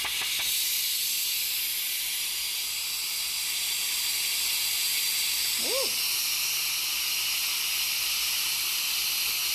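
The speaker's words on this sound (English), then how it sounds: "So, quick release lets all the steam out." Steam rushes continuously from a pressure cooker's quick-release valve after cooking birria meat, a steady loud hiss throughout, with one brief voiced exclamation partway through.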